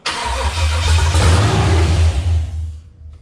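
A loud LS V8 engine in a Chevrolet C10 cranks and fires up for its first start, roaring steadily with a deep throbbing rumble for a few seconds before cutting off abruptly.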